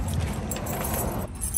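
A bunch of keys jangles briefly near a vehicle in a warehouse setting, a quick metallic rattle lasting about a second and a half, with no talk.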